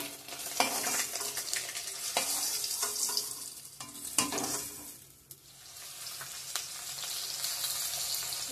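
Cumin and panch phoron spices sizzle steadily in hot oil for an egg curry with taro and potato, a close, continuous crackling hiss broken by sharp clicks and scrapes of stirring.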